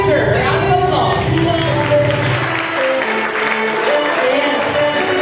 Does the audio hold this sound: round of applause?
yes